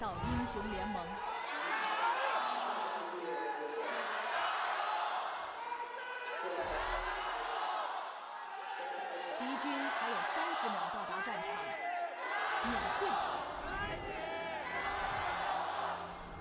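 An esports arena crowd at an LPL playoff League of Legends match between IG and WE chants and cheers in rolling waves, heard under continuous commentator talk.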